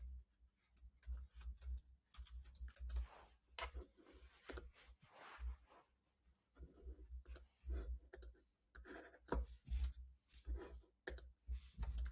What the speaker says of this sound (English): I'm going to start typing our, stuff here